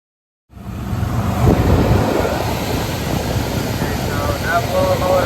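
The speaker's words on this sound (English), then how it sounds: "That blower motor is working." The blower motor of a home heating system starts up and runs at a steady, loud, broadband whoosh with a faint hum underneath, continuing without a break after a short silence.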